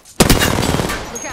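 Apex Legends gunfire, a loud burst of rapid close shots that rattles on for about a second with echoing tails.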